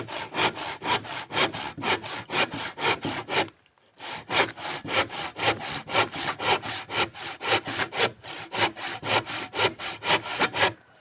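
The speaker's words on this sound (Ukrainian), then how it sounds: "ось я знайшов доску. Зараз будемо її різати, виміряти все." A wooden board being sawn by hand: brisk, regular back-and-forth strokes with a rasping bite, close and loud, broken by one short pause before the rhythm resumes.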